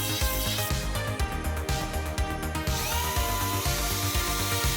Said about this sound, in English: we'll puncture a hole in the side with a small drill and then make it bigger using this big drill bit.